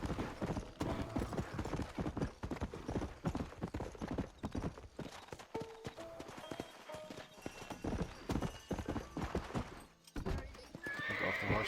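Horse hooves clip-clopping and a horse neighing in the Red Dead Redemption video game, with the hoofbeats running steadily throughout and whinnies standing out clearly over the game's ambient sound.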